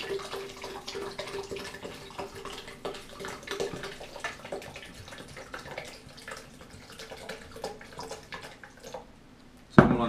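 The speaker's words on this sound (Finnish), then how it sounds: "Laitetaan vähän vettä perään." Water pours and trickles into a bowl of smoothie ingredients, including sunflower seeds, in a home kitchen; a soft, uneven splashing stream runs for several seconds before a sharper clatter at the end.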